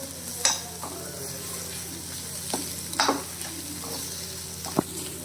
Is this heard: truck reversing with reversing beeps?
no